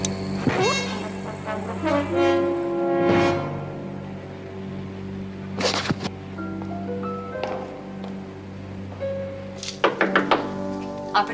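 Heavy knocks on a door in a dramatic TV episode, a series of loud thunks and raps scattered across the scene, some in quick clusters, with a voice briefly heard among them.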